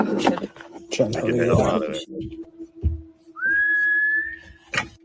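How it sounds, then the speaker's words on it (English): A voice speaks, then a single sustained, high rising whistle sounds clearly in a quiet setting, followed by a brief knock. "A sharp, eerie whistle, believed to be the infamous Appalachian whistle, echoed through the woods twice"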